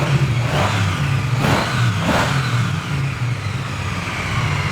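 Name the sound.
used 900 cc motorcycle engine starting and revving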